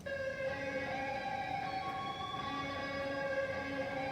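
Long, sustained electric guitar notes with a bright, saturated amp-simulator plugin lead tone bend slowly between pitches, steady and unaccompanied.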